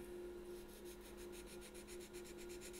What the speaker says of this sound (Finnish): Koska mä aion sen hioa ihan nolliin, niin ettei siinä tuntuisi käteen yhtään mitään.